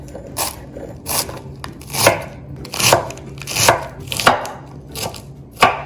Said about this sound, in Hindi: और ये जो लेटस है उसको आप बारीक बारीक